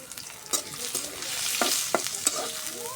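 Onion frying lightly in oil in a wok for a pangas fish curry, a steady crackling sizzle broken by several sharp spatula scrapes and taps, close and alone without talk.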